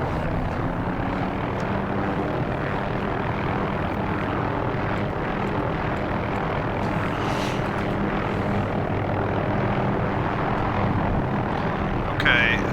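Aircraft engine cranking up and running steadily in the DCS flight simulator, a loud continuous drone with rotor-like throb that holds evenly throughout, with a brief higher burst near the end.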